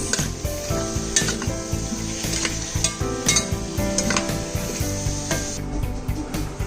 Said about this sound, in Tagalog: So this is the coconut cream, guys. There. It's a little bit boiling now.